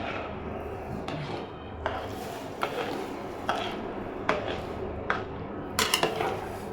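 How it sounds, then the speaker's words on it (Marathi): Spices and rice being stirred in oil in a pot for veg biryani, scraping and knocking of a spoon against the pot with regular metallic taps over a low sizzle. "आता हे थोडं हलवून घेऊ."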